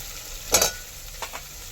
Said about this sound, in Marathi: आणि सगळं आणखीन एकदा सगळं एकजीव करून घेऊया